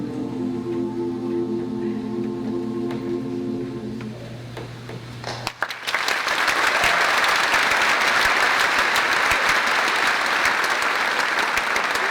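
A sustained chord from a choir's song fades out, then loud, dense applause from a crowd at a high school graduation ceremony breaks in and continues steadily to the end.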